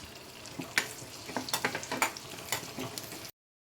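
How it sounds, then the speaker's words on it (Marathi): Garlic and green chillies frying in two spoons of hot oil in a heated kadai, a close crackling sizzle with rhythmic scraping stirs and pops, ending abruptly, with no talking. "लसूण चांगला भाजलेला आहे मिरच्या भाजलेल्या आहेत"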